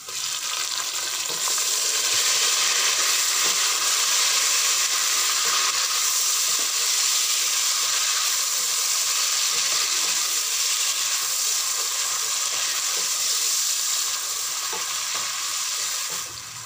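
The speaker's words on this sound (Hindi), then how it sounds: "टमाटर डाल देंगे" Steady, loud sizzling of tomatoes frying with onions and garlic in a pan with a bright hiss, punctuated by faint scraping of stirring, continuous throughout with no talking.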